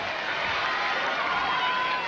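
A large tennis crowd at the 1991 French Open roars in a dense, continuous wash of cheering, with a sustained shout rising over it.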